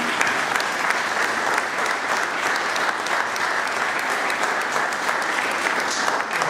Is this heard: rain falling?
no